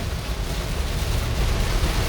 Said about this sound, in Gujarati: આજનો વરસાદ બહુ પડે છે